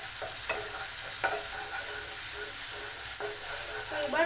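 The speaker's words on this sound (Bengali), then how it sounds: "তো আমি আর একটু ভালো করে এটাকে নেড়ে নিলাম।" Chillies and onions stir-frying in a pan for an egg bhurji, a steady sizzle under light scraping and stirring strokes, close and fairly even throughout.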